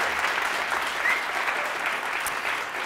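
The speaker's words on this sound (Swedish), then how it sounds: "Egentligen skulle ni applådera bara så att alla får höra er" A large live audience claps loudly and evenly on request, a dense burst of applause with no break.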